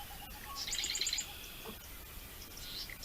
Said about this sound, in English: take a listen to all of the bird sounds that are around us